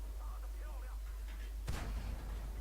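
A single tank cannon shot in World of Tanks from a Type 64, one sharp booming blast followed by a rumbling decay, heard over a low steady engine drone and faint background noise.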